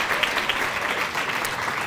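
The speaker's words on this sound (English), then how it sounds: "let's applaud all of our participants" An audience at an awards ceremony applauds its participants, a brief, moderately loud patter of many hands clapping together.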